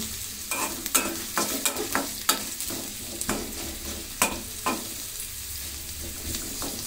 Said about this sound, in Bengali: পেঁয়াজটা একটু হালকা ভাবে ভেজে নিব।